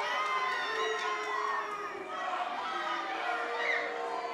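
A wrestling crowd at an indoor show shouts and jeers at a wrestler named Thunder, a sustained roar of many voices with whoops and children's shrieks rising and falling throughout.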